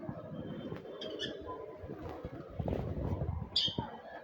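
Pigeons and other small birds kept at home, with soft cooing and scattered chirps rising over a low, busy background rumble, brief bright calls near the end.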